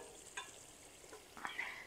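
Desi chicken with coconut sizzles and crackles as it roasts in desi ghee over a fire, a soft, steady frying hiss with a few brief spits.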